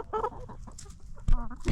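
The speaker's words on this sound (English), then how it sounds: "What are you doing? You crazy chicken." A farm chicken gives a few short, sharp clucks and squawks, close and loud, with a louder burst near the end and quiet gaps between calls.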